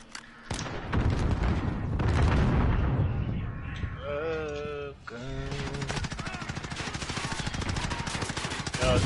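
Rapid automatic gunfire and explosions in a PS4 shooter game, loud and dense, with a sustained burst of fire running through most of the stretch and a brief lull partway through.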